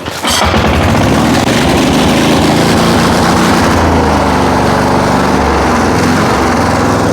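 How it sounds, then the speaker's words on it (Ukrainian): A diesel walk-behind tractor engine runs loud and steady after a sharp start, its throbbing low rumble holding an even idle throughout. "Приємно працює двигун."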